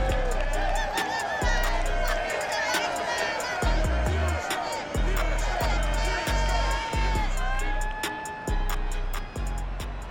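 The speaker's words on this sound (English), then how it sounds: "This crowd enthusiastically cheering on their Texans as they emerge from the locker room." A stadium crowd cheers for the Texans at NRG Stadium in the Madden NFL 22 video game, a steady roar of voices and broadcast-style music filling the whole stretch with no clear pauses.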